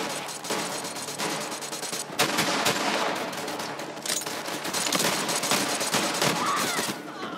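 Rapid bursts of gunfire in Borderlands 3, dense cracking shots fired in quick succession with short gaps and occasional explosive thumps, fairly close and loud.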